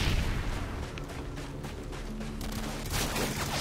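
Rapid gunfire in Modern Warfare 2 during a Domination match on the Afghan map, a loud, dense burst of shots and rattling fire running continuously through the moment.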